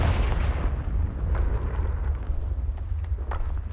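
A Confringo fire-spell blast in Hogwarts Legacy, a deep booming explosion with heavy low rumble and crackling debris, loud and sustained throughout with no speech.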